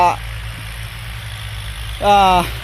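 A farm tractor engine idles in a steady low rumble, with someone talking nearby in brief bursts at the start and near the end.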